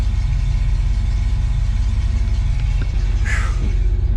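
Steady low rumble of a 1966 Ford Mustang engine idling, slightly low RPM, running evenly and close by with no talk over it.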